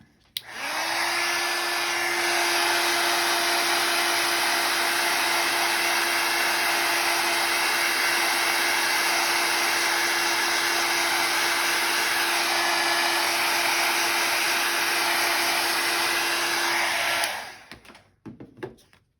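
A hair dryer blows steadily on a craft tag, a loud constant whir with a steady hum that runs unbroken for about seventeen seconds before cutting off, followed by a few faint clicks.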